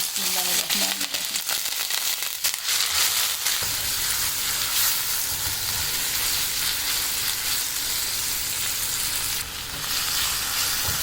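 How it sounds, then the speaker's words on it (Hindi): Mixed vegetables frying lightly in cooking oil in a kadhai, giving a loud, continuous close sizzle with a brief clatter at the start and then a steady hiss to the end. "ये सारी सब्जियां पहले मैं इस ऑयल में इनको हल्का सा फ्राई करूँगी"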